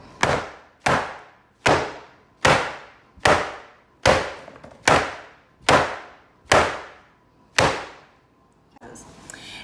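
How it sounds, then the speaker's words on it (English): A baking pan of wet macaron batter is banged hard on a table ten times in an even rhythm, each sharp, loud clang decaying quickly, with no talking. "pick up the pan and you're literally banging it on the table"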